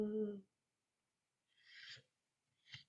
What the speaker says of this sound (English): Nigel night owl.